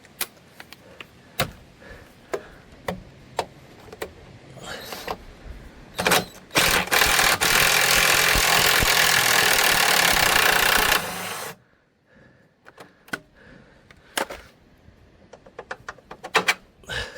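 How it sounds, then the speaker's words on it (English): An impact driver removes a bolt from the lower control arm of a Ford Puma Mk1, with scattered clicks and taps, then a loud sustained hammering rattle lasting several seconds before stopping abruptly, followed by more light clanks. "So I should be able to get it off the rest of the way with the impact driver now."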